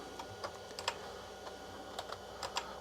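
Keys clack on the keyboard of a 1987 IBM PS/2 Model 30 PC, a faint run of irregular taps and a few sharper strikes, with no talk.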